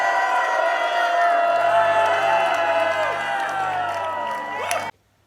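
Congregation at a Korean HIM conference cheering and shouting thanks to God, a loud sustained roar of whoops and applause with a low tone underneath, cutting off abruptly near the end.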